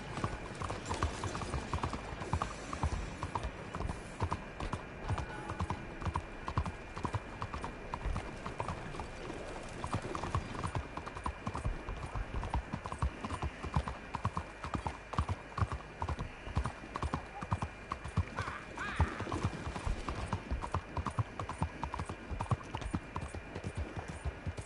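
Steady clip-clop of horse hooves at a riding pace, a continuous rhythmic beat running throughout with faint ambient hum and an occasional snort or whinny; an endurance-fit horse being ridden.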